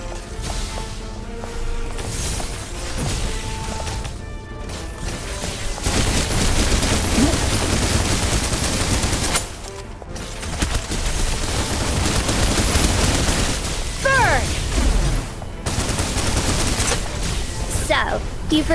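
Rapid gunfire in the shooter game Snowbreak: Containment Zone on an icy outpost map, with sustained bursts and loud shots running nearly continuously, brief pauses between volleys, booms mixed in and character voice lines over the battle.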